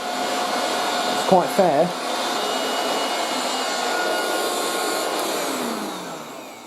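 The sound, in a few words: 1980s Moulinex handheld vacuum cleaner running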